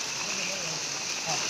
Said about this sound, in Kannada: ಮಳೆ ಬರ್ತಾ ಇದೆ.